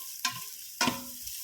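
Chopped garlic and ginger sizzling in a hot pan, with two distinct stirring scrapes over a continuous frying hiss.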